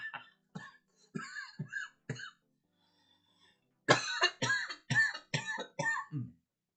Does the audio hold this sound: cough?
yes